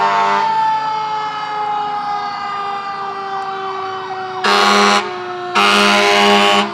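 A fire engine, Engine 3 from New Ashford, sounds its siren in a steady wail during the 2017 Fall Foliage Festival parade in North Adams, with two loud air horn blasts near the end; no one speaks.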